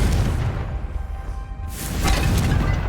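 A Confringo spell fired in Hogwarts Legacy bursts with a loud, close boom and crackling whoosh, a sustained rumbling blast that swells again near the end, with no talking.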